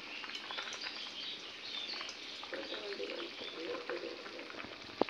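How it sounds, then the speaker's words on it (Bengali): Fish frying in a pan for a fish curry with ridge gourd and potato, giving a steady, faint, close sizzle with small crackles and a sharp tap near the end, plus brief background chirps. "মাছ এদিকে ভাজা হচ্ছে"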